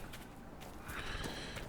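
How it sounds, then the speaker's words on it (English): Horse in a video game whinnying after a whistle call, with soft hoof clip-clops, faint and distant over a low ambient background. "So if I want to whistle for my horse, it was that."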